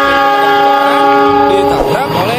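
A toy train approaching on its track sounds a loud, steady electronic horn, a held multi-tone blast that wavers and breaks up toward the end.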